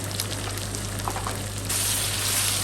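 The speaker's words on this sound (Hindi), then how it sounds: "हम साथ साथ चिकन और प्याज को इकट्ठा सौते करते रहेंगे" Chicken and onions sautéing together in a pan give a steady, close sizzle with crackling spatters, growing a little brighter and louder near the end, with no talk.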